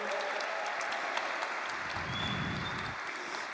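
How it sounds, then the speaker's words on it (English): An audience claps for volunteers at a community event, a steady wash of applause from a moderately sized crowd that carries on unbroken, with a brief low murmur partway through. "let's give these guys a round of applause"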